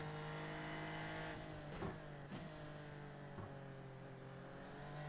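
Onboard engine of a Super Formula race car in a racing video game, a sustained steady drone at fairly low level with a few brief shifts and blips, no voices.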